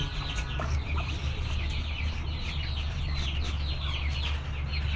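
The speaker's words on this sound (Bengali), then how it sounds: "দেখুন মুরগি ডিমে বসে আছে" A brooding hen sitting on her eggs clucks softly and steadily, blending with other fowl calls and a constant low farmyard rumble that continues throughout.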